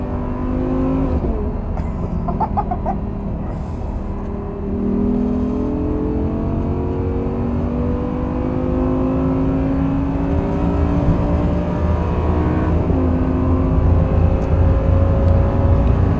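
An Audi R8 engine revs hard and climbs through the gears, its rising tone dropping at each shift, loud and close for the whole stretch with no talking.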